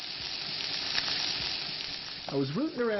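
Soy sauce duck skin sizzles in a pan over medium heat, a steady, moderate hiss and crackle throughout, with a brief vocal sound rising over it near the end.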